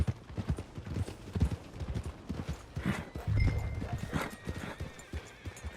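Horse hooves clip-clop at a walking pace in Red Dead Redemption 2, with a steady close rhythm and a brief neigh, under faint background sound.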